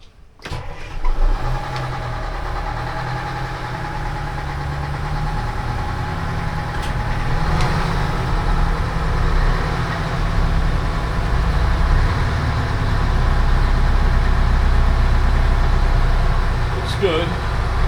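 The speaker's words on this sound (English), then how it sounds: "I'm going to start these engines up," Marine engines on a boat sitting on the hard start up and settle into a steady, loud idle with a low rumbling drone, one running slightly unevenly; a brief voice is heard near the end.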